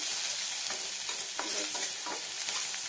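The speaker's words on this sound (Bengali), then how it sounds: "এটা একটু ফ্রাই হবে, খুব বেশি না, মোটামুটি ভাজা যাবে" Green chillies, chilli powder and sliced garlic fry in hot oil in a pan for a prawn, arum and tamarind dish. A constant close sizzle sounds throughout, with a spoon scraping and stirring at irregular intervals.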